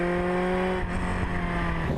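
Ariel Atom 3 5R race car driving on a wet track with standing water, a loud, close engine drone holding steady pitch, with brief hiss and spray texture partway through.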